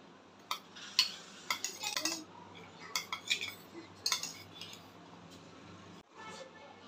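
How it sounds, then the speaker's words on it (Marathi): A spoon clinks and scrapes against a bowl while chana chaat with squeezed lemon is mixed, in a run of sharp irregular taps close by that stop near the end. "लिंबू पिळून घेऊया, मिक्स करूया छान।"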